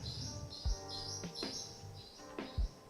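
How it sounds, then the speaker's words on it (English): A bird right outside a window gives clear high chirps in repeated short phrases, moderately close, over a faint indoor hum with a few soft knocks. "Sounds like there's a bird right outside my window."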